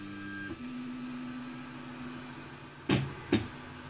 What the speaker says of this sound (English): now we're going to auto home once again